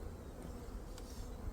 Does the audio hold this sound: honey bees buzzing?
yes